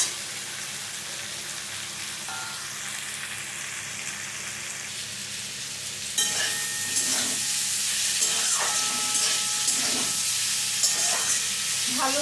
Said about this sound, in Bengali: সবজির সাথে বেগুনটা মিশিয়ে নিলাম। এবার ভালো করে ভেজে নেব।